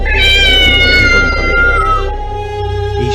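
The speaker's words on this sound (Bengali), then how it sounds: "বিড়াল।" A cat meows loudly and close by in one long, drawn-out wailing cry with no other sounds.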